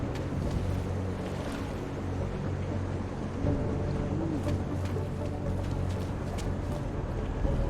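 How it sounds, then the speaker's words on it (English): Waves washing and splashing against a seawall in the video game Deus Ex: Mankind Divided, a continuous rolling surf roar with a steady wind-like wash and no talk. "listen to the waves splashing against the wall"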